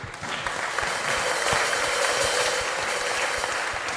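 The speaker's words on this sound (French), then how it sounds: "Est-ce qu'on peut acclamer le Seigneur?" Congregation applauding during a church service in Casablanca, a steady, dense wash of clapping filling the room for several seconds at even loudness with no voices breaking through.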